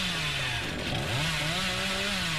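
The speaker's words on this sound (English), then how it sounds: "I'm looking for it while going on a chainsaw." A revving chainsaw in the horror game Dead by Daylight, a continuous buzzing engine whine that rises and falls in pitch, steady and prominent with no talking over it.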